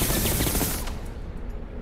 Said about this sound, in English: Machine guns acquired.